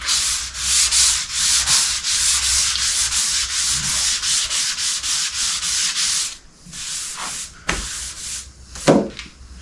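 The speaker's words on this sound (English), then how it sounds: "Now I'm paying close attention to not sand through paint on this upper part" Painted bathtub being sanded by hand near its upper edge, a loud continuous rhythmic scrubbing rasp that stops around the six-second mark, followed by a few short scraping strokes and handling sounds.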